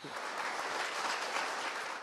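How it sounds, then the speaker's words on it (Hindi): Students give loud, dense applause at a school discussion event, a continuous wash of clapping filling the whole moment without any talk. "अभी आपने देखा और बहुत ज़ोरदार तालियां बजाई"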